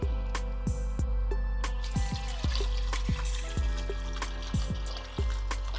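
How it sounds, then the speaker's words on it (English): Water pours into a pot of Nigerian vegetable soup (edikaikong), a close, continuous liquid rush broken by a rhythmic series of gurgling plops. "Now I'm going to add in my water."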